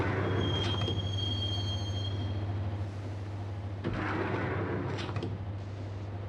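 A train in the Max Payne video game rumbles through a subway station with a steady low drone, a thin squealing tone early on, and brief clanks and bursts over the continuous roar.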